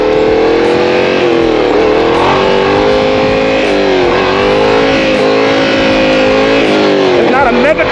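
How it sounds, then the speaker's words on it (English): A dirt bike engine dropping back and coasting, droning steadily and loud at close range as the revs dip and waver without a hard acceleration. "you can hear the engine"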